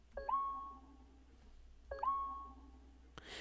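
Two bright synth notes from the Meditation preset in the aperture bank of FL Studio, each a quick upward-bending tone that settles into a sustained ringing pitch and fades, with a short click at the end.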